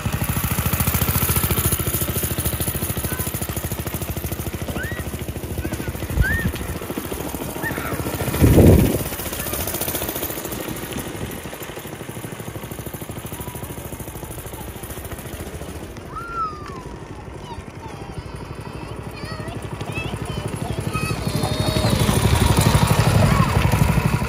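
A go-kart engine revving inside an abandoned warehouse, a buzzing small-engine drone that rises and falls with a few sharp bumps, voices talking over it.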